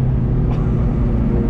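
A Mazda MX5 sports car accelerates on a wet race track, its engine giving a loud, close, dense rumble that holds steady for a moment.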